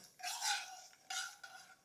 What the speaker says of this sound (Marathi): गॅस मोठा करूया आणि साखर याच्यामध्ये चांगली विरघळून देऊ